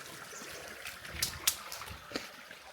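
Water trickles faintly down an irrigation channel in the Konkan countryside on a cold morning, a soft continuous flow broken by a few small drips and splashes.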